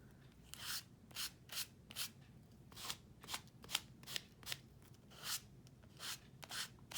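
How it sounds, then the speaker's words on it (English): A card pressed down and smeared across a Bible journal page, giving a steady series of close, soft scraping rubs, about two per second, with no talking. "So you're going to take your card, press down and smear it."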